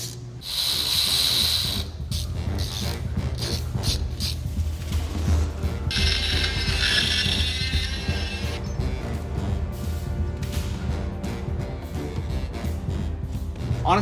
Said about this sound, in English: we're gonna have to tap each of these holes out